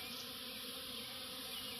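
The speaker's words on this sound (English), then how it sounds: "And these bees are swarming in the rain." A dense, steady buzzing of many bees swarming together, continuous and fairly faint, with a soft hiss of rain in the background.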